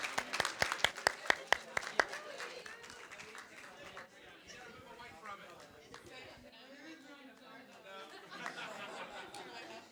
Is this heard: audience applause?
yes